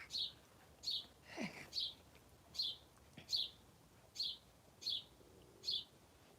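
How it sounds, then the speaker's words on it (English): Repeated high bird chirps ring out at a steady pace, roughly one every half second to second, clear against a quiet background. "Wow, listen to the birds."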